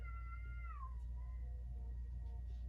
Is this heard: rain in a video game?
no